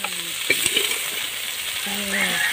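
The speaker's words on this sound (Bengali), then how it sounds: "বন্ধুরা আমার কাঁকড়াটা ভাজা হয়ে গেছে।" Crab frying in a pan, heard as a continuous close sizzle of hot oil with a few sharp clicks and stirring knocks throughout.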